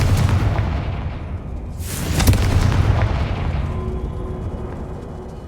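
In Hogwarts Legacy, a Confringo fire spell bursts into a loud booming explosion, a deep rumbling blast that swells midway and then fades into a lingering roar.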